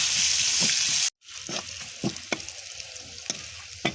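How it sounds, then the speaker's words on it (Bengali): Beef frying in a home kitchen pan, with a steady hiss of oil at first that cuts off, then scattered scraping stirs and sharp clinks of a spoon against the pan over a quieter sizzle. "এখন আমি কষে নিব।"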